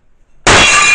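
A plate smashed at the end of a semester, heard as one sudden loud crash of breaking ceramic halfway through, followed by a sustained bright shatter and scattering of shards, with near silence before the impact.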